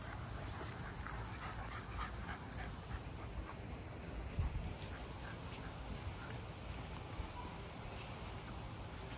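A dog whines and pants softly in a steady stretch, with faint background noise and no clear talking.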